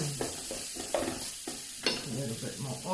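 Chopped onion frying in oil in a pan for a Cape curry, a steady close sizzle broken by repeated scraping and stirring clatters, with no talk.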